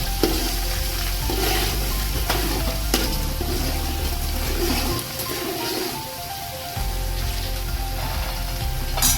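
Cabbage and peas for Swaminarayan khichdi stirred in a frying pan, a steady close sizzle with scraping spoon strokes and a brief lull midway, no talking.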